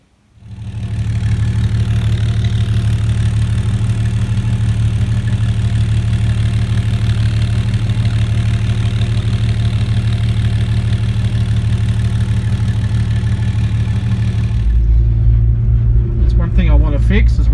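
A 1964 Ford Falcon XP wagon engine starts and settles into a loud, steady idle with a deep, even rumble, then shifts to a heavier, rougher tone near the end as the car begins to move; no talking over it.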